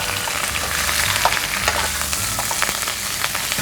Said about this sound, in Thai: เอาน้ำพริกที่เราตำเนี่ยค่ะโขลกเมื่อกี้นะคะใส่ในกระทะผัดเลย